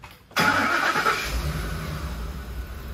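A car engine cranks and catches after a brief silence, then settles into a loud, steady running rumble close by; no speech.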